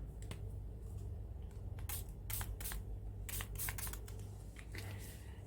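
Several short bursts of spray stain misted onto a mixed media art journal page, close and fairly loud, separated by brief pauses over a steady low hum.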